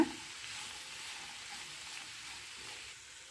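Sliced ivy gourd (tondekayi) being stirred in a frying pan for a wedding-style palya, giving a soft steady sizzle with faint scraping throughout, no voices.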